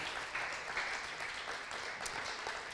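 Applause for pastors at a Spanish-language church service, a steady wash of clapping from a congregation, fairly faint and continuous throughout.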